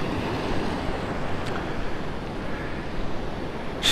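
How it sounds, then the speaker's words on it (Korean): Ocean waves wash onto a winter beach on Korea's east coast, a continuous close, broadband rush mixed with wind noise on the microphone. "아, 파도 소리가 오늘따라"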